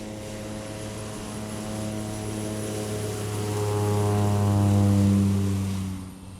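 A de Havilland Canada Beaver bush plane gives a loud, steady piston-propeller drone that swells toward a peak, then begins to fade as it passes.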